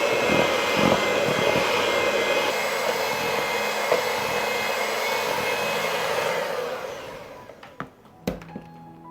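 An electric mixer whirs loudly and steadily as powdered sugar is beaten into a cookie filling for oatmeal cream pies, then winds down and stops, followed by a few clunks.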